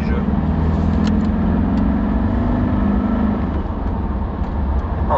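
A 2012 Mercedes C200 accelerates from inside the cabin, its engine drone rising steadily in pitch under road rumble, continuous and fairly loud throughout.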